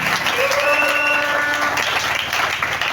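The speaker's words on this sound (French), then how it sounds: "Acclamez très fort pour elle aussi." A church congregation applauds loudly and steadily for about three seconds, a dense crowd clapping with a few voices and cheers rising over it.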